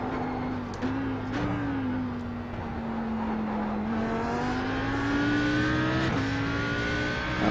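Audi R8 GT3 race car in a driving simulator at Bathurst, its engine droning steadily under load with a rising pitch, then a quick shift and renewed climb, loud and continuous throughout.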